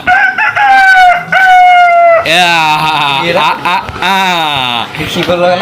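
A person at a birthday party imitates a rooster's crow with several loud, drawn-out warbling calls, close and clear.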